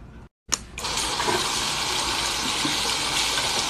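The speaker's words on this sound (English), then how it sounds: "it works better if you wet your sponge first" Water from a tap runs steadily and loudly over a makeup sponge, starting after a brief silence and a sharp splash and continuing as an even gush.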